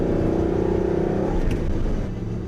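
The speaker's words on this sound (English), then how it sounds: "A lot of engine sound, really quiet otherwise from an exterior noise perspective." A sports car's front-mounted engine idles and hums in a steady, loud, close rumble with a faint rise in pitch partway through, with no voices over it.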